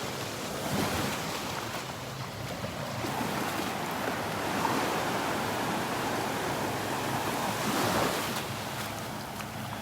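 Steady ocean surf washing onto a beach at Delnor-Wiggins, a continuous broadband roar with gentle swells, one fuller wave near the end, and some wind buffeting.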